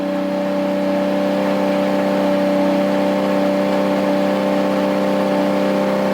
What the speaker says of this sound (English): if you hit the throttle just a little bit and rev it up